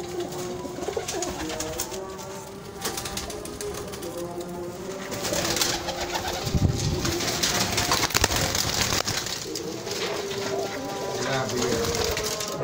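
Breeder pigeons in a loft in Bhati Gate, Lahore, coo repeatedly in soft, throaty bursts, close by, while someone talks over them and wings rustle now and then.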